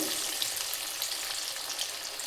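Steady, dense sizzling of chana dal masala vada frying in hot oil in a pan, a continuous crackle with no voices.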